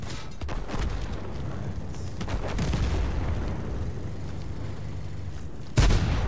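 Deep, rumbling tank cannon blasts in World of Tanks, HE rounds, a few spaced shots, the last one loud and sharp, over a steady engine-like drone.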